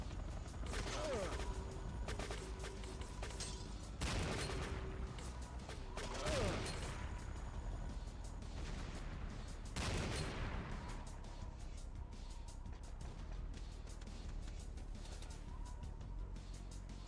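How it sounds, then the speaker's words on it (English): Game gunfire from Command & Conquer: Renegade, with several sharp bursts of shots around a continuous loud bed of battle noise, spread across the whole stretch and fading slightly toward the end. "You're shooting at someone there?"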